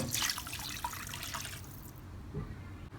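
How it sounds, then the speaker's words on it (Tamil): Water from a small mixer jar is poured into masala cooking in a pan, a fairly quiet splashing trickle that fades out over a few seconds. "அந்த தண்ணியை வந்து இப்போ இந்த மசாலாவோட சேர்த்துக்கிறேன்"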